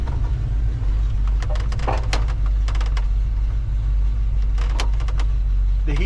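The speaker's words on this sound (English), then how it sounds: "Rev it up way over 60, 65." Revving of a 1971 Chevrolet Nova SS engine: a loud, steady low-pitched rumble sits near, with scattered clicks and knocks over it and no speech.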